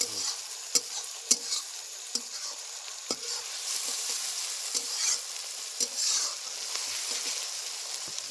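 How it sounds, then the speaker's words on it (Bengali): Chopped onion and green chilli sizzle in hot oil in a pan, with a constant hiss punctuated by sharp clicks and scrapes of a spatula stirring every second or so, close up and without talk. "পেঁয়াজটা ভালো করে ভাজা হোক"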